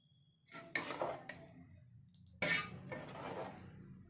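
A utensil stirs rice pudding with melting jaggery in a metal pan, giving two bursts of close scraping and clinking against the pan with quiet gaps between them.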